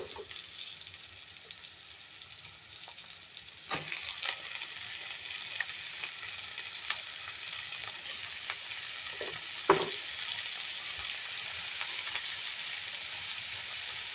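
Radish greens go into a hot pan for a radish stir-fry, sizzling and frying steadily with a few sharp clatters of a ladle stirring, no talk over the cooking.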